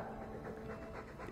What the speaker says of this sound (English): You taught my dog to gabble.